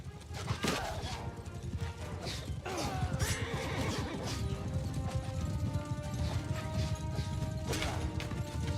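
Horses whinny and neigh repeatedly amid a clashing Warhammer battle of High Elf Swordmasters fighting knights, with hooves, metallic impacts and crowd-like din layered densely throughout.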